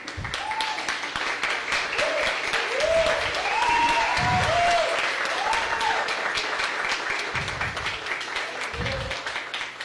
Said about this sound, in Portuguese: Gostaria que vocês ficassem de pé e aplaudissem essa linda obra.